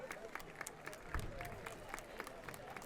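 Fans clap for an injured player leaving the field at a high school football game, Alexander at Paulding County: faint, distant scattered applause from the crowd in a wide, open space.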